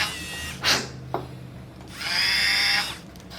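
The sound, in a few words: dental drill making 2.2 mm holes for Straumann BLX implants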